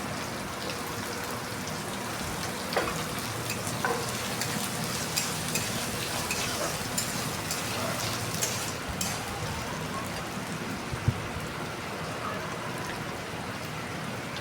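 Onions frying in a pan, a dense continuous hiss and crackle of hot oil, moderately loud and steady with occasional soft clicks.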